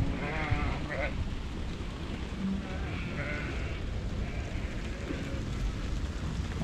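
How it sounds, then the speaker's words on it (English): Sheep bleating now and then, close by, over a steady rumble of flock movement as a large mob of ewes is shifted, with some talk mixed in. "I don't normally move this many sheep"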